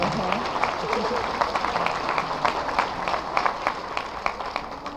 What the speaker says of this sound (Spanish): Recibamos por favor con un fuerte aplauso a la licenciada Idalia Pérez Fernández.